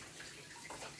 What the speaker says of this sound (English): I'm just going to wash my hands.